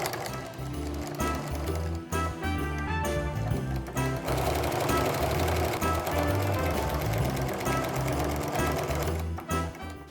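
A sewing machine runs steadily, stitching in the ditch on a quilted snowflake mug rug, with a fast, even needle rattle that pauses briefly a few times as the corners are turned, close and loud.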